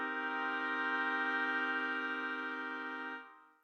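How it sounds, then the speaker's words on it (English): A minor seventh chord rings out as one sustained, steady sound for about three seconds, then fades and cuts off, with no talking over it. "Here's a minor seventh."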